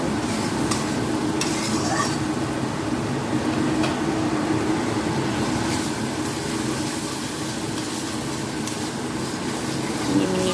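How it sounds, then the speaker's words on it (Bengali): Spice masala with cumin powder and salt stir-fried in a pan for a lentil and fish curry, a steady close sizzle with a spoon scraping and stirring throughout. "সব কিছু একসাথে মিশিয়ে মশলাটাকে ভালো করে কষিয়ে নেব"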